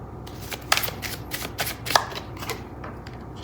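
Tarot cards riffled and shuffled by hand during a Virgo reading, a soft papery flutter broken by a few sharper snaps, close and fairly quiet with no talking.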